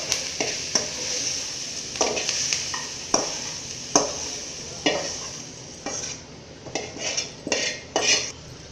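A spoon scrapes and clinks against a pan while moving sautéed ridge gourd into another vessel for chutney, an irregular series of close metallic strokes over a faint background sizzle.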